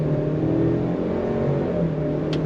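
2023 Ford Explorer XLT with a 2.3-liter turbocharged engine accelerating hard in sport mode from a stop, a steady, loud engine drone climbing in pitch, heard from inside the cabin.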